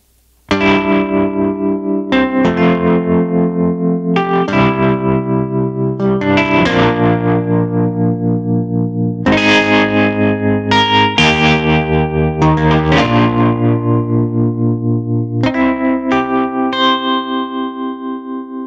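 Native Instruments Electric Sunburst Deluxe electric piano chords on the Ballad Vintage Tremolo preset, pulsing with a steady tremolo wobble, played in slow separated phrases with gaps between them, loud and alone.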